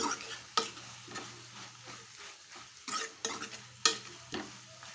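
Cauliflower curry stirred in a pan after chili powder goes in, with repeated scraping strokes of a spoon over a steady low sizzle of frying, close and fairly clear.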